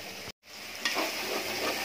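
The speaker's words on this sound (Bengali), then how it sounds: "মশলাটা আমার প্রায় কষানো হয়ে গেছে" Spice paste fries in hot oil in a home kitchen pan for a fish and tomato curry, giving a soft, steady sizzle with light stirring after a brief gap of silence.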